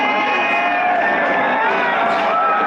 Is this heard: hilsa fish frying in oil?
no